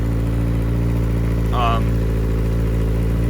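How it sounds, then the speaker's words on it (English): A 2019 Kawasaki Z900RS Cafe motorcycle idles steadily at a slightly raised cold-start idle, a constant low engine drone close by, with a short brief higher-pitched squeal partway through and no talking. "so it'll be a little bit high of an idle until it cools down or warms up"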